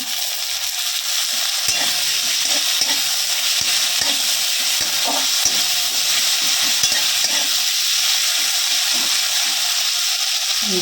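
Ginger and garlic paste sizzles and fries steadily in hot oil for a fish-head cabbage curry, with occasional stirring scrapes of a spoon in the pan, close and continuous.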